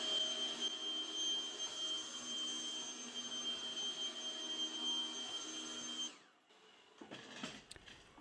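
Cecotec Conga Eternal Pet robot vacuum runs with a steady whirring hum and high whine for about six seconds, then cuts off, leaving faint knocks and shuffles.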